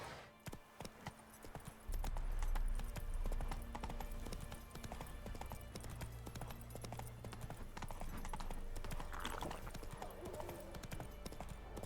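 Roach the horse gallops in The Witcher 3, a steady rhythmic clip-clop of hooves that starts sparse and quickly becomes loud and continuous over game music and ambience.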